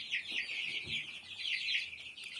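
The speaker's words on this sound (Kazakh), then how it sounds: "Бұл жерде 60-тан аса балапан бар." More than sixty month-old chicks fill a cleaned-out coop with dense, continuous high peeping, a busy chorus heard close with no talking.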